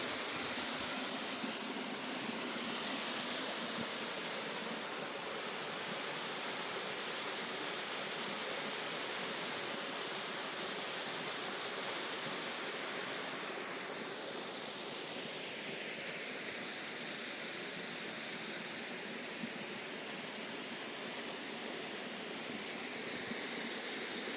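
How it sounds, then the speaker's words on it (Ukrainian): The Sopit waterfall in autumn, running low after a dry spell, gives a steady, broad rush of falling water, close and continuous, with no voices. "31 жовтня ми відвідали цей водоспад."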